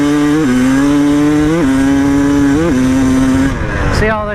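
A KTM motorcycle on a test ride right after a rear brake pad replacement, its engine droning loud and steady with a few rises and falls in pitch from revving or gear changes, then easing off near the end.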